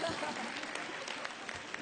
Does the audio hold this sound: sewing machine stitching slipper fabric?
no